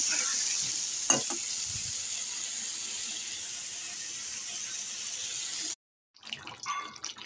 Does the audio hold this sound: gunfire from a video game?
no